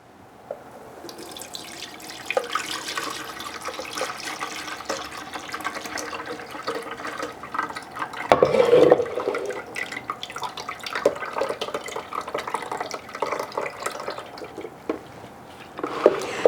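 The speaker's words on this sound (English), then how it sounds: "when I pour, I will lift it so the juice doesn't fall on the outside of the jar" Juice pours from a lifted container into a jar in a kitchen, a steady liquid trickle with a few splashy surges and drips, close by and running continuously without talk.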